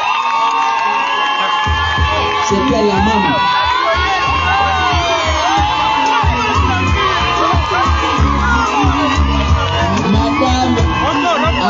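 A wedding crowd at a traditional Gabonese polygamous ceremony cheers and shouts loudly, voices and whoops overlapping with a steady low rumble, continuous and close, with a person speaking briefly at the start.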